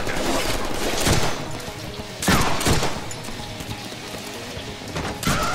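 Gunfire in the Deadpool action game, a few loud sharp shots at irregular intervals standing out over a busy, dense background of game noise.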